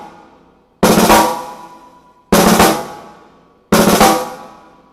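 Drum sticks playing a tight closed-stroke five-stroke roll, three loud clustered bursts spaced about a second and a half apart, each buzzing briefly and then fading.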